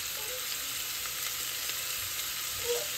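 Meat for pepper steak sizzling in a pan over a wood fire, a steady close hiss and crackle of frying with faint stirring, no voices.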